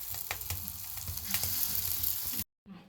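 Lentil dumplings (bori) fry and puff in hot oil, a dense, close crackling sizzle with scattered pops that runs steadily and then cuts off abruptly near the end.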